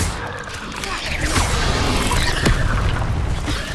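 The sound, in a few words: Incendio fire spell cast, from video game Hogwarts Legacy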